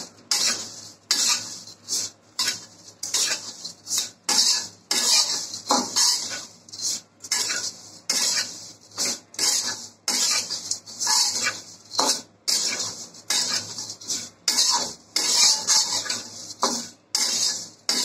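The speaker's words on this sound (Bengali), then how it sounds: "এখন আমি লাচ্ছা সেমাইটা খুব সুন্দর করে স্লো ফ্লেমে ভেজে নিচ্ছি।" Lachha semai vermicelli frying in a little ghee over a slow flame, with rhythmic spoon-against-pan stirring scrapes and clinks repeating steadily throughout over a faint sizzle, nobody speaking.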